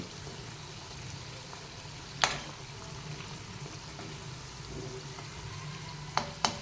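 Potato bonda frying in hot oil, a continuous soft sizzle and bubbling broken by a few sharp crackles, heard close and on its own without voices.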